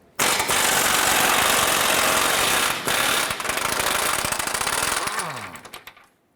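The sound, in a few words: loosening and removing a 19mm control arm bolt, Honda Accord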